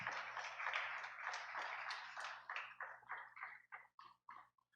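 A church congregation applauds together, a dense wash of many hands that gradually thins into a few scattered, separate claps before fading out.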